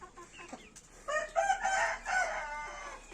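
An Arab rooster crows once nearby, a long strained call rising and holding for about two seconds, with faint clucking before it.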